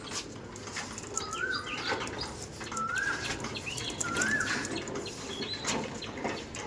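Andhra pigeons cooing: four separate rolling coos, fairly close, at roughly even intervals over a constant background rush.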